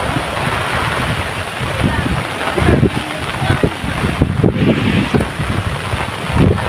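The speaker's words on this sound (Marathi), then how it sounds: "आणि गाईस एकदम जोरात पाऊस होतो, एकदम हवा बिवा सुटलेली आहे" Strong wind buffets the microphone beside a swollen, flooded river during heavy rain in the Konkan countryside, a steady roaring rush with gusty surges and low rumbling bursts throughout, a voice faintly present underneath.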